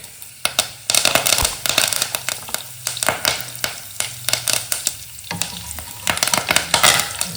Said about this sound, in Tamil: கடுகு உளுத்தம்பருப்புலாம் நல்லா பொரியணும். கடுகு நல்லா பொரிஞ்சிருச்சு பாருங்கள்.